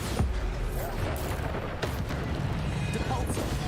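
Bombarda spell blasts in the video game Hogwarts Legacy, a rough explosive boom with sharp cracking bursts over a dense, continuous rumble of combat noise, while a voice talks over it.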